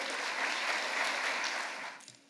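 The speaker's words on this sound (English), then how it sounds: "And while you're in the mood for applauding, to speak on behalf of the jury, the great Carmen Aguirre." An audience at an award ceremony claps continuously to welcome a speaker to the stage, a dense, moderately loud applause that fades out over the final moments.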